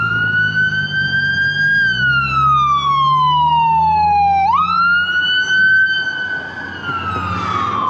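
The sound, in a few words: ambulance siren passing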